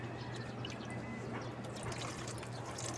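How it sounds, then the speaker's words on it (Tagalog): Organic fermented fruit juice drips through a cloth filter, a soft continuous trickle with faint patter of drops over a low steady hum, fairly quiet and close, with no talking. "So ayan na po, tumutulo na siya."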